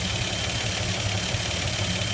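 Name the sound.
1954 Chevy 3100 pickup six-cylinder Offenhauser engine running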